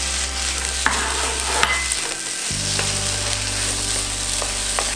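Rice with egg, leftover edamame and kimchi stir-fries in a hot pan. A steady close sizzle runs throughout, with occasional scraping and stirring clicks, and there is no talking.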